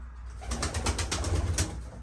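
Pigeons coo in soft, low, rolling calls close by, a steady murmur of several birds with no voices.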